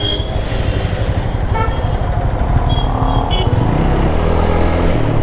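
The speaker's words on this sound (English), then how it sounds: "It feels very good bringing my serviced bike to home." Engine noise from a freshly serviced motorcycle with a new air filter, ridden home through road traffic, a loud continuous rumble with passing vehicles and a brief horn toot, no speech.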